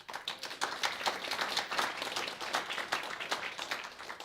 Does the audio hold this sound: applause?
yes